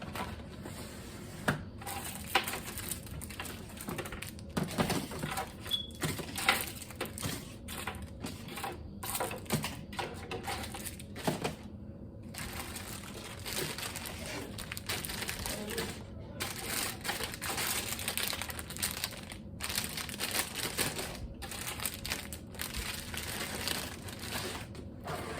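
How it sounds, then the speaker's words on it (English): Candy dropped into a taped-closed Dollar Tree Valentine's DIY holder, giving a steady run of close crinkling, rustling and tapping with small clicks and plastic handling noise, continuing for a long stretch without speech. "what you want to do now is put your candy inside."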